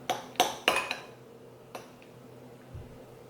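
Cheese foam spooned onto boba tea, heard as a few sharp clinks of a spoon against a cup in a quick cluster, then one more light tap and a quiet soft pause, close by with no talking.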